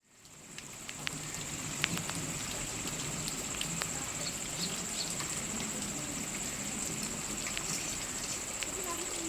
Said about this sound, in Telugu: ఇలా వర్షంలో